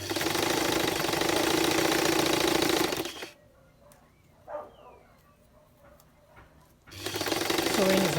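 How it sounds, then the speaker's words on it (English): Sewing machine running a zigzag stitch along a sleeve hem in stretch fabric, a steady loud mechanical whir that stops for a few seconds of near silence, then starts up again. "I'm doing my own with a stretch fabric. That's why I'm using a zigzag stitch"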